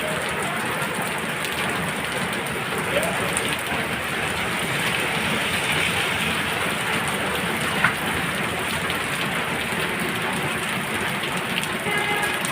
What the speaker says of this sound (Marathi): स्पीड कमी झालेली आहे, पावसाचा जोर कमी झालेला आहे.